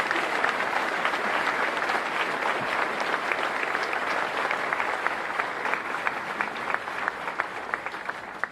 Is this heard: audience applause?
yes